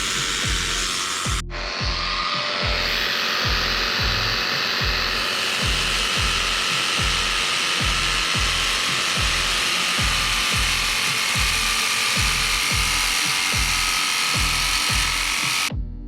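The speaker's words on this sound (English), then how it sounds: "So I'm cutting in between those 2 holes." Power tool cutting carbon fiber between two bolt holes for a steering wheel hanger, a loud continuous buzzing grind with a rapid, steady pulsing rattle, close up and running without pause.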